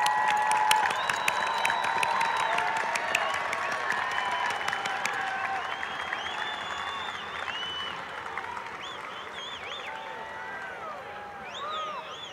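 Crowd applause at a 2016 commencement ceremony in light rain, recognizing graduates with distinction; dense clapping that starts strong and gradually fades, with whoops and murmuring voices mixed in toward the end.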